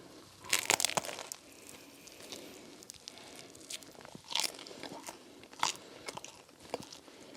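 Crunchy bites into a Dunkin' avocado toast, a few crisp crunches followed by close, quiet chewing, no talking.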